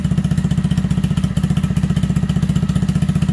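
A Honda Grom MSX125 motorcycle engine idles steadily at about 1900 RPM while warming up, with a loud, close, even low putter and no talk over it.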